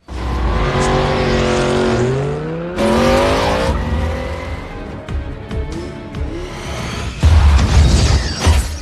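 Racing cars roar through a film car chase in Fast & Furious 7, with loud, close engine revs climbing and shifting, tire squeals and passing whooshes, then a heavy burst of engine noise near the end.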